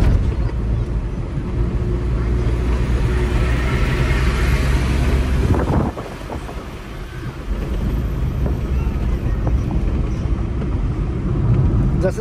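A car climbs the winding Bhoste ghat road and overtakes another vehicle, its engine and road noise rumbling loud and steady from inside the cabin, easing briefly midway, with wind buffeting and someone talking over it.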